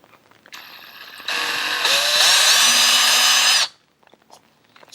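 A power drill bores a pilot hole into a wooden door jamb while a deadbolt is being installed, its steady whine rising as the motor spins up and then running loud and close for about three seconds before cutting off.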